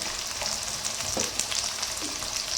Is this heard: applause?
no